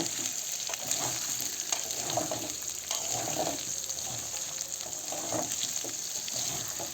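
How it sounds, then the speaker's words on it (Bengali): Potatoes frying in a pan while being stirred, with a steady, moderate sizzle broken by repeated soft scraping strokes and no voices. "এবার একটু নাড়াচাড়া করছি আর কি তো নাড়াচাড়া করতে আছি"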